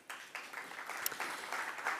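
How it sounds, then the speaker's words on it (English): A conference audience at a hybrid stakeholder forum gives a faint, distant round of applause, a soft patter of clapping that lasts the whole moment. "May we give her a round of applause."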